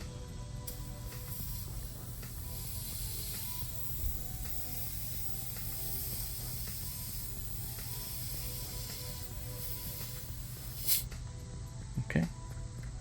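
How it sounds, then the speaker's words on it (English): Air hisses briefly out of a car tire on a 2020 Toyota RAV4 as the inflator hose is released during a tire rotation, a short burst near the end standing above a steady low background hum. "when I release the hose, I'm gonna let some air out"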